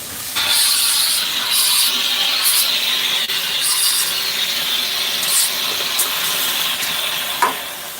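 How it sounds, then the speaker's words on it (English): Steam hissing out of a cooking pot during batch cooking, a loud, close, continuous hiss and sputter lasting several seconds with brief louder bursts, then a sharp knock near the end. "let the steam out of this thing."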